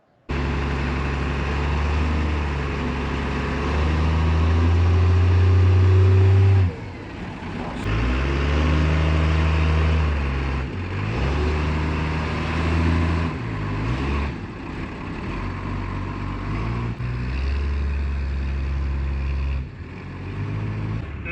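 A 1953 Kenworth bus engine rumbles loud and close as it drives into a parking spot, with a deep, steady drone that swells and dips through revs, with brief pauses between pulls.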